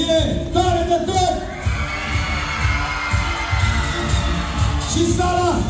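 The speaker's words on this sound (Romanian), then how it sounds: "Haideți facem o ultima gălăgie, tare de tot!" A large event hall audience at a gaming convention cheers, whoops and shouts loudly and continuously, with a host's amplified voice calling out over the crowd.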